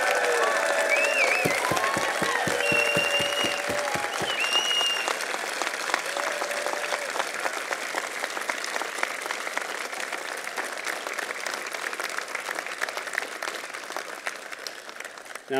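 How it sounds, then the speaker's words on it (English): Sustained applause from a large convocation audience honouring standing graduating master's and PhD students, dense clapping that holds loud for the whole stretch, with a brief burst of louder individual claps early on and cheers and voices mixed in. "I'd ask all the graduating students to stand, both sides, for one more round of applause for all of their accomplishments"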